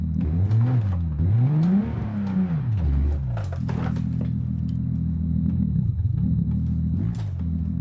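A car engine in the BeamNG driving game revs while stationary, rising and falling in repeated throttle blips before settling into a steady, loud idle drone with no talk over it.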